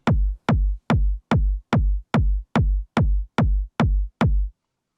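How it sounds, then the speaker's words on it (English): Layered kick drum sample for dubby hardgroove techno, ten punchy booming hits at a steady even pulse, each with a sharp click and a deep decaying low body, loud and alone with no talk. "First we have the kick that sounds like this."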